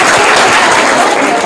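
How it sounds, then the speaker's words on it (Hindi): Loud, steady applause from a studio audience at a quiz show, dense clapping filling the whole moment with a murmur of crowd voices underneath. "इनके लिए जोरदार तालियां।"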